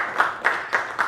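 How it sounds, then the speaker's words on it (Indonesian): A few people clap in a slow, sparse rhythm, four distinct claps spaced evenly, fairly close and alone without talk. "Tepuk tangan buat Mas Okta."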